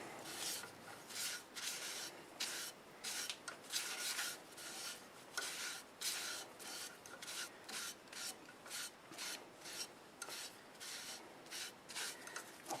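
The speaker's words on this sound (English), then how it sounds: "I'm going to take a rag. Now I'll just wipe it." Rag wiping finish onto a turned wooden piece, a quiet close rhythmic rubbing swish repeated in quick back-and-forth strokes.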